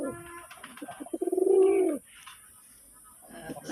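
A male Golla pigeon coos nearby in a rising, rolling call that swells and stops abruptly, with softer cooing and murmurs before and after.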